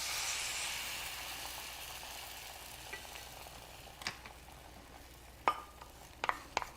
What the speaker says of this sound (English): now this is where my eggs go